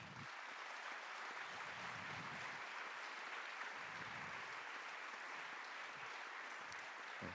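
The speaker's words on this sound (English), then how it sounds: "je vous propose de l'applaudir." Faint, steady applause from an audience at a French-language talk event as a guest is welcomed on stage, a soft continuous patter sounding distant throughout.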